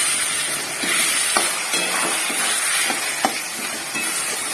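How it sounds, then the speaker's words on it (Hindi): Turmeric, chili powder and masala fry in hot oil, giving a steady, loud bright sizzle and hiss with faint stirring clicks scattered through it and no talking. "अच्छे से फ्राई करेंगे"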